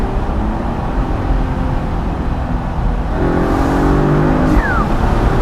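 A 2021 Mercedes E450 convertible with a 9-speed transmission and turbos accelerates in Sport Plus mode, its engine drone climbing steadily under heavy wind rush, loud and continuous from inside the car, no talk.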